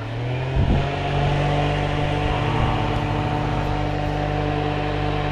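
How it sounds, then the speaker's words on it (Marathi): An electric fan runs inside an MSRTC non-AC sleeper bus, giving a loud, steady droning hum with a constant tone and a brief swell near the start, no talking. "फॅन लावूया, थोडे तरी मच्छर जातील, पण आवाज येईल जास्त."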